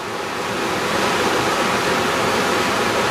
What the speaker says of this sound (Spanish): Otra vista del caudaloso pasar de las aguas del río.